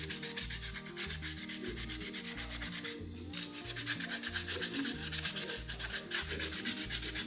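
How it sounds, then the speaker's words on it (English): Hand sanding a carved wooden lovespoon: steady rhythmic back-and-forth rasping strokes of abrasive on wood, close and continuous, with a brief pause midway and no talking. "it's a nice piece of wood for sanding"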